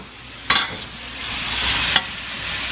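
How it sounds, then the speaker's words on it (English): Bean sprouts dumped into hot oil in a wok alongside bok choy while cooking Malaysian mi goreng fried noodles, giving two sharp sizzling bursts over a steady, swelling frying hiss. "Let's go ahead and dump in the bean sprouts."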